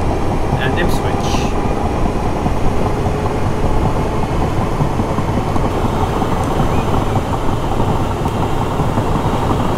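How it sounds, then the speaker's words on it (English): A loud, steady rumble of a Class 317/5 electric train running in Train Simulator 2017, with constant droning motor and wheel noise filling the whole stretch. "This train is pretty loud, as you can already hear."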